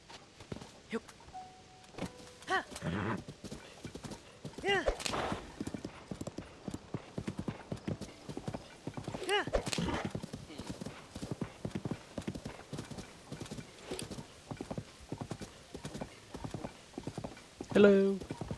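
Horse hooves clip-clop in The Legend of Zelda: Tears of the Kingdom, rhythmic and moderately close, with bursts of a player talking over them and a short loud noise near the end.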